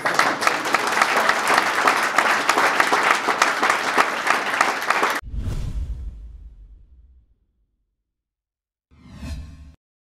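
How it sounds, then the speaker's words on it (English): An audience at a startup talk with a CEO breaks into loud continuous applause for about five seconds, then it cuts off abruptly into a fading low rumble and silence, followed by a brief swooshing sound. "Let's give a round of applause."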